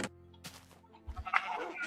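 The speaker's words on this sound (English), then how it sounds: "What is a sheep doing on the loose in the village?" A sheep in the Minecraft video game gives a short bleat or two in a village, fairly close and moderately loud, amid quiet game ambience and small clicks, with no talk.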